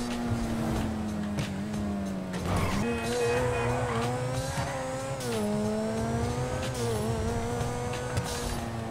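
A car driving steadily with a sustained engine drone that rises and falls slightly in pitch, close and continuous, with some tire and road noise over about nine seconds.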